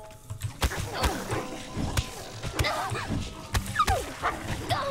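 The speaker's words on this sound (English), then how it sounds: "lots of dogs, lots of dogs" Several dogs bark and yip in the video game Fallout: New Vegas, repeated short barks scattered across a busy, moderately loud scene, with some background game noise mixed in.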